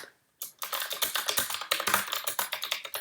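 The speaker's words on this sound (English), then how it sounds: "before I start typing it, I'm going to hit tab" Rapid typing on a computer keyboard during word processing, a dense run of close, crisp key clicks that starts abruptly after a brief silence and continues steadily without talk.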